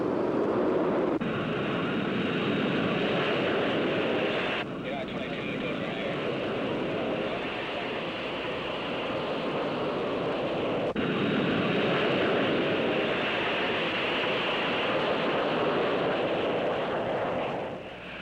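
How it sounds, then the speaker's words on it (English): A jet airliner takes off from runway 25 at Los Angeles airport, a loud, steady engine roar that holds broadband and dense for the whole stretch, with a high whine riding on top. "Flight 766, this is Los Angeles Tower, cleared for takeoff, runway 25."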